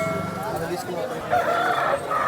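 A fighting rooster at a poultry market in Vijayawada crows once in a drawn-out, loud call amid general market bustle.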